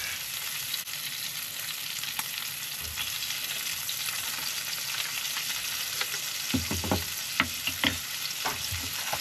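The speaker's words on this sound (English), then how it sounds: "This is the basting of the steak." Steak sizzles steadily in a hot pan as it is basted with butter, crushed garlic and a sprig of rosemary, a constant crackling hiss with a few louder spatters and clinks near the end.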